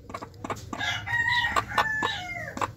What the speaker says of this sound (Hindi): अब मैं मुर्गी को हाथ लगाऊंगा तो ये चिल्लाएगी, देखिए किस तरह से आवाज़ कर रही है।